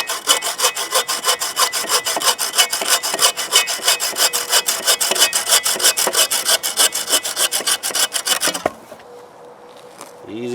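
A 15-inch Sven Saw cuts through a 3 to 4 inch thick wood log in rapid, even back-and-forth strokes, loud and rhythmic, before stopping abruptly near the end.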